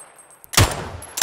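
MG13 machine gun fire in PUBG, the battle royale game: a loud burst of several rapid shots, a short gap, then another shot onset at the very end, with a hiss under the quieter opening.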